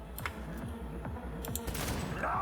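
Video-game gunfire crackles in a short rapid volley of shots over a steady background of game sound.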